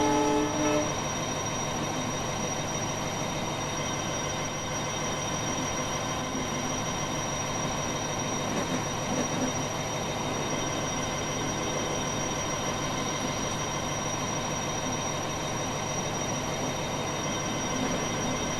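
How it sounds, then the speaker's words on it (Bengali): A train running at speed 110 in the Roblox game Epic Rails produces a steady, continuous mechanical rumble with sustained tonal hum, even and unbroken for the whole stretch, with no talking. "ট্রেনের স্পিডে 110 স্পিডে চলছে"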